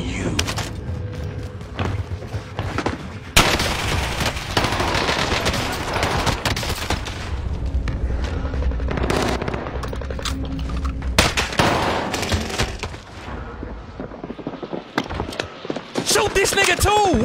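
Video-game gunfire crackles in dense, near-continuous volleys with heavy booms, while players talk excitedly over the shooting.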